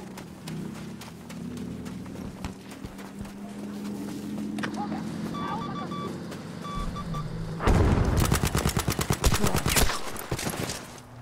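Rapid bursts of sniper and rifle fire crack in a Battlefield V firefight, louder volleys clustering near the end over a busy battlefield ambience, with a player talking throughout.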